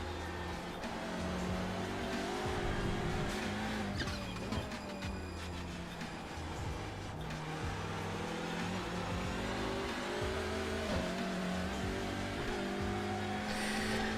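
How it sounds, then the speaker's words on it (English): Camaro and Ford touring car engines racing in iRacing, a loud, continuous engine drone that shifts pitch in steps as the cars rev and change gear, with occasional tire noise. "Camaro sounds more flat, whereas the Ford sounds more raw"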